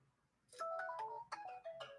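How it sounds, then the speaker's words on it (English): A mobile phone plays a string of bright melodic notification chimes, two short bursts of tonal beeps close together and fairly loud, with no talking. "my phone is making all kinds of fun sounds"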